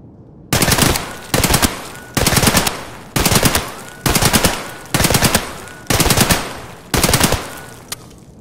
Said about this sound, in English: the AKM standard kicks like a mule, and most of the shots we fired were way over the head of our target